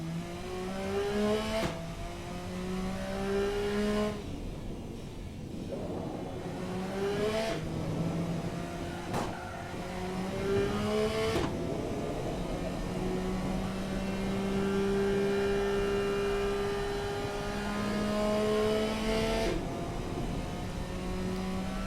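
A super car's engine in a racing video game accelerates around a test track, loud and close, with rising revs broken by repeated gear shifts that drop the pitch before it climbs again.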